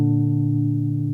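A sustained two-note major third chord rings steadily at a constant level, its tones blending into a bright, slightly buzzy interval with no talking.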